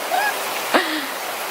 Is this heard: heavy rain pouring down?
yes